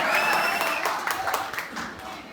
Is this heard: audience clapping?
yes